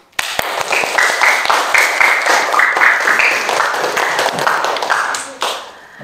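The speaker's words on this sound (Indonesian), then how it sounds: "Kita kasih aplaus untuk ketiga kelompok." Classroom applause for three presenting groups: a burst of brisk, loud clapping from many hands lasting several seconds, with voices cheering along before it tapers off.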